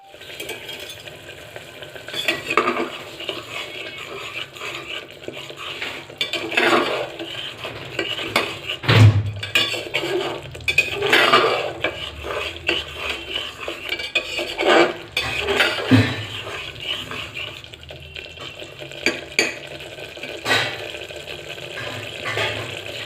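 Turmeric and spices are stirred and fried in a pan with a steady sizzle, while a utensil repeatedly scrapes and clanks against the pan in irregular strokes, close and fairly loud.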